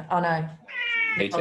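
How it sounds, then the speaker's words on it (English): A pet cat gives a short, tonal meow indoors during an online meeting, squeezed between bits of a person talking. "That was my cat."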